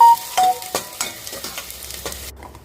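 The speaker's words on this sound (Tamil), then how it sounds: "குக்கரில் 2 டேபிள் ஸ்பூன் போல் எண்ணெய் சேர்த்து 2 பெரிய வெங்காயம் சேர்த்து வதக்கி விட்டுடலாம்" Two large onions frying in about two tablespoons of oil inside a pressure cooker, with a soft sizzle under a series of sharp, close stirring scrapes and clacks at an uneven rhythm, then a sudden stop.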